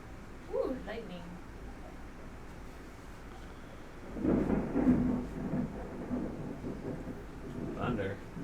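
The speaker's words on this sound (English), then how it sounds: "Thunder." Thunder during a storm, a distant low rumble building midway and rolling on for several seconds, moderately faint, with a person speaking briefly before and after.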